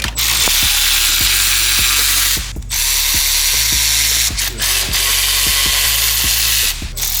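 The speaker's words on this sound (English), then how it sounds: "I usually like to break them loose before I use a tool, just so you don't strip it." Power tool loosening T30 Torx bolts on a B58 engine downpipe, a loud continuous buzzing whir broken by brief stops and a steady train of clicking ratchet ticks.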